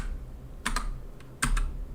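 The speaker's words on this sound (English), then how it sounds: "So now I'm typing my name." Someone types a name on a computer keyboard, with two short close bursts of quick key clicks separated by a quiet pause, no talking.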